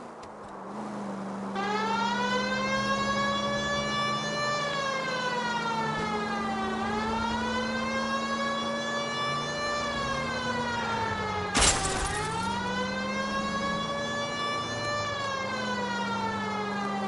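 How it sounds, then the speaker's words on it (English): A police car siren wails in the video game L.A. Noire, rising and falling in long smooth sweeps over a steady engine hum, loud and continuous with a brief sharp bang midway. "People might move out of the way quicker if you use the siren."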